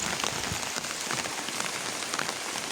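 Steady rain pours down on a rural Bangladeshi village market, a dense, even hiss of drops hitting surfaces with no pauses and no voices.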